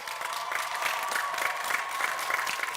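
Graduation ceremony audience applauding and cheering, a steady wash of dense clapping from a large crowd in a hall, sustained and even throughout.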